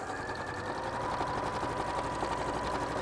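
A sewing machine stitches quilting lines, its motor and needle producing a steady, moderately loud whirring drone throughout with no talking.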